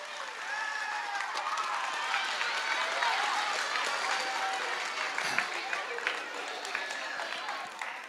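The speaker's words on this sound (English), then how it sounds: "give him a big round of applause" Audience at an elementary school spring concert breaks into a dense, steady round of applause that holds at full strength for about eight seconds with no talk over it.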